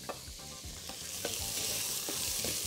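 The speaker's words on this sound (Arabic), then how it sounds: "وافضل كده اقلب في الشوربه" Minestrone soup in a pot on a stove being stirred, soft scraping strokes repeating every half second or so over a steady sizzle, quiet and close.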